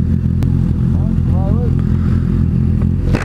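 A group of seven motorcycles rides along a road, their engines making a loud, steady low drone with rumbling texture and wind buffeting throughout, with faint higher whines drifting in briefly.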